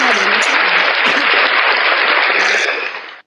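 An audience at an Islam versus Christianity religious debate breaks into dense, loud applause that holds steady for about three seconds, mixed with crowd voices, then fades out quickly.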